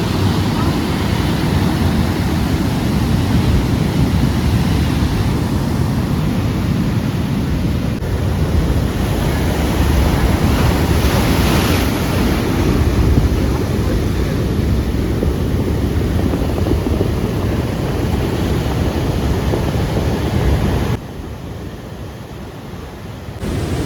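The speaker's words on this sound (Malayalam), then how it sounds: "അത്രക്കും നല്ല തിരയുടെ സൗണ്ട് നമുക്ക് കേൾക്കാൻ പറ്റുന്നുണ്ട്" A loud, continuous roar of stormy sea waves crashing onto a coast lined with coconut palms, mixed with wind buffeting the microphone, steady throughout with no pauses.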